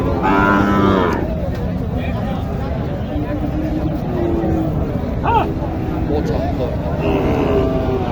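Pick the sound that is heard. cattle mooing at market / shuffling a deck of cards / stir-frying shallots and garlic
cattle mooing at market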